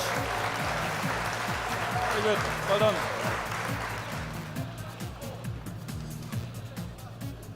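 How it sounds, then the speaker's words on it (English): Audience applause at a transport awards ceremony for a haulage crew from Sligo, a broad clapping wash that fades gradually while someone talks over it. "Another round of applause for Stephen and all the crew from Sligo Haulage"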